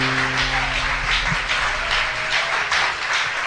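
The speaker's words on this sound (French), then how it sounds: "On applaudit le roi de gloire." A church congregation claps together in a steady, dense wash of applause at close range, with faint voices mixed underneath.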